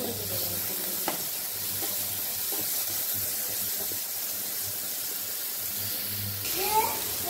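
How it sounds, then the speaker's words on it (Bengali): Shrimp frying lightly in oil in a pan, a steady soft sizzle and hiss running throughout with a few faint clinks and scrapes, close and moderately quiet with no talking. "আমার চিংড়িগুলো ভাজা হয়ে গেছে, খুব হালকা করে ভাজবো।"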